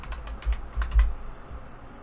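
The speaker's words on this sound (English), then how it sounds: "So we're going to type in the amount here." Quick taps on a computer keyboard as an amount is entered, a handful of sharp clicks in a brief irregular burst, close and fairly quiet.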